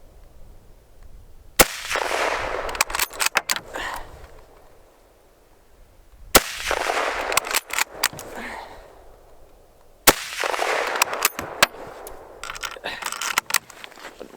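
A Mosin Nagant bolt-action rifle fires three loud, sharp shots spaced about four seconds apart, each followed by a flurry of metallic clicks and clatter.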